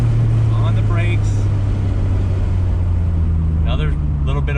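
A 1993 Nissan Skyline GTR R32 V Spec with a straight-six engine drives along, a steady loud in-cabin engine drone with a sustained low hum and shifting tone, with voices in the car.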